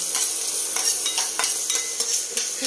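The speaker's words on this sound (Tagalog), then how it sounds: "Tapos, ilagyan natin yung ating bawang. Ayan. Ay, tumatalsik. Bakit tumatalsik?" Garlic frying in plenty of butter in a pan, giving a steady bright sizzle with repeated sharp pops and spatters and some stirring, close and alone with no talk.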